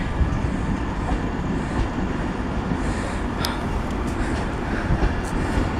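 Train departing Peterborough station, a loud continuous rumble of rolling wheels and carriages close by, with faint high squeals over the steady rail noise.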